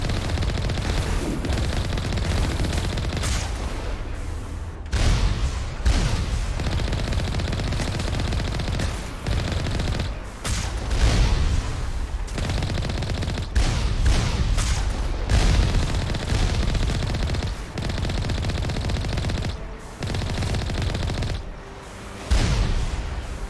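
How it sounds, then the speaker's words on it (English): Sustained video game gunfire from Mass Effect aimed at the player, with dense bursts of automatic and single shots and loud impacts repeating over the whole stretch, close and continuous with brief lulls. "Can you guys stop shooting me?"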